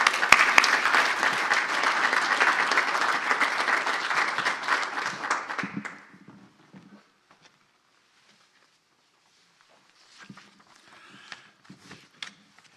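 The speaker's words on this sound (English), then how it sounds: "Round of applause." Loud round of audience applause at a Scout Troop 97 Eagle Scout Court of Honor, dense clapping for about six seconds that stops abruptly, followed by near quiet with a few scattered shuffles and thumps.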